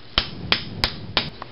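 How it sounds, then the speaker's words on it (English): Sharp metallic hammer blows drive a 3/8 inch pipe through the cutoff side of a part while building a motor: four loud, distinct strikes at irregular intervals, followed by a fainter tap, with no voices. "you want to bang it through with a hammer"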